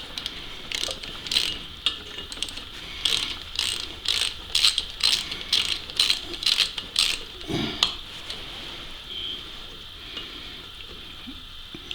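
Socket ratchet turning out a heated exhaust stud, a close series of quick clicking bursts in a steady back-and-forth rhythm, tapering into a few scattered clicks and quiet.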